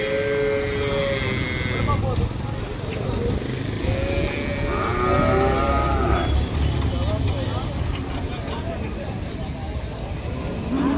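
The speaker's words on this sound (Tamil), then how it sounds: "மாடுகள் கொண்டு போயினோம்" A herd of cattle moos on a roadside in Jaffna, with several overlapping calls against steady traffic and engine noise and people talking throughout.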